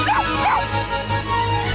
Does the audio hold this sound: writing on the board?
no